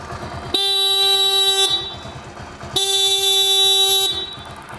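A motorcycle horn powered by a homemade bike battery gives two loud, steady blasts about a second and a half each, separated by a short pause, close to the listener with a low engine rumble underneath.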